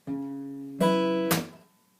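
A guitar rings out with a sustained chord, then a sharp percussive slap with a fuller strum, followed by another crisp hit that fades away.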